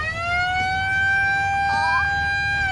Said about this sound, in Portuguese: O negócio ainda faz barulho, você inventou essa sirene aí?